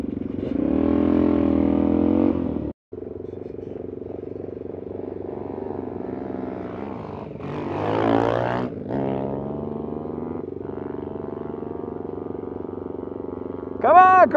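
Several quad ATV engines idle and rumble together at a group ride send-off in Beef Basin near Moab, a steady close drone that swells briefly as one revs, with a brief cut partway and a sharper rev at the end.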